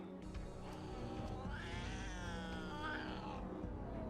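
Cat in a TV show giving a drawn-out, wavering meow that rises and falls over a few seconds, fairly close and loud, layered over steady background music with no talk.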